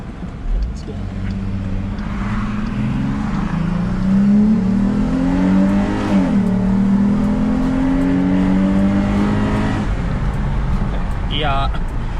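A Jeep Grand Cherokee fitted with an Apexi open air intake, driven in sport mode, revs up through rising engine tones that drop at a gear change before climbing again. The engine is loud and close, with traffic around.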